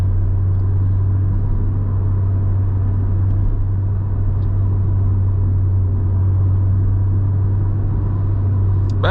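A 2006 Acura RSX Type S cruises along, its engine producing a steady, loud low drone with road rumble heard from inside the cabin, unchanging over several seconds with no talking.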